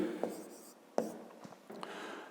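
A pen writes out a math solution on paper, giving faint scratchy strokes with a few sharper taps against a quiet room.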